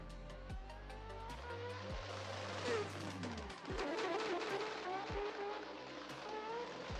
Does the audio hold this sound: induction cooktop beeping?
no